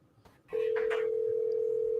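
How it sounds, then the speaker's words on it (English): A phone call being placed back to someone: after a couple of soft clicks, a loud, steady single-pitch ringback or dial tone starts and holds unbroken to the end. "Let's try calling him back."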